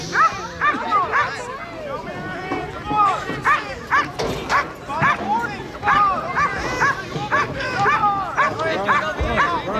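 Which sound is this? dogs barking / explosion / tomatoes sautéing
dogs barking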